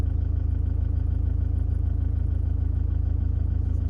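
A vehicle engine drones behind a campervan on the road, a steady low rumbling hum with a regular throbbing pulse, close and constant, with no talking.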